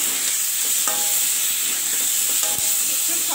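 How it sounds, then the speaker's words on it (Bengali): Chopped onion, garlic and chilli frying in a pan, a loud continuous sizzle and hiss filling the whole stretch, with a few faint knocks of a spatula being stirred through. "এর মধ্যে আমি পেঁয়াজ কুচি, রসুন কুচি আর লঙ্কা কুচি দিয়ে দিই, দিয়ে আরও ভালো করে এগুলোকে কষিয়ে"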